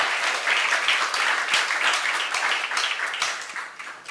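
A church congregation at a youth service applauds together after a sermon, a dense, steady wash of clapping that holds strongly and then tapers off near the end.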